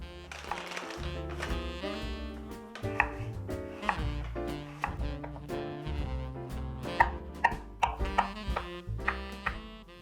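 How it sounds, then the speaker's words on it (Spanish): Ingredients for a Christmas crumble being chopped on a board in a home kitchen: close, irregular knife thunks repeating throughout, with music playing underneath. "me ayudan picando y midiendo ingredientes"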